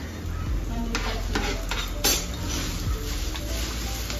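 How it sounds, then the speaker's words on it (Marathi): Tomatoes tipped into golden-brown fried onions in a pan for egg bhurji, with a steady sizzle, spoon scrapes and clinks against the metal, and a few louder stirring knocks. "तर आता आपण टाकणार टोमॅटो."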